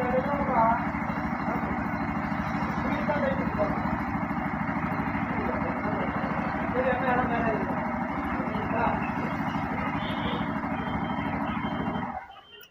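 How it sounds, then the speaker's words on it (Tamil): A Bajaj N250 motorcycle engine runs steadily at a low idle rumble, close by, for about twelve seconds before cutting off abruptly near the end. "இப்போ வண்டி ஸ்டார்ட் பண்ணுவோம்"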